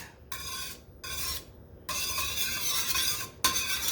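Pancake batter for banana pancakes being stirred with vegetable oil: bursts of raspy whisking and scraping, three stop-start strokes and then one long steady stretch, close and fairly loud, no voices.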